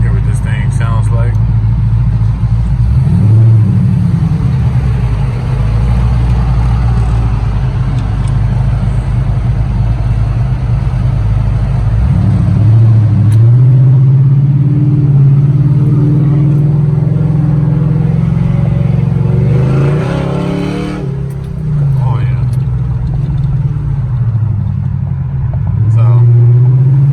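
A big truck engine rumbles steadily at idle, rising in a few revs before dropping back, loud and close throughout.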